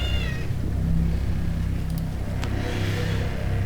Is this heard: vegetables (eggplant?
no